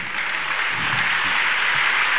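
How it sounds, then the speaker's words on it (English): A church congregation claps hands in a dense, continuous burst of applause, loud and close throughout. "Clap your hands unto God of the chosen."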